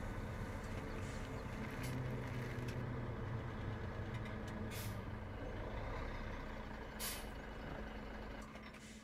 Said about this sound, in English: Brakes on.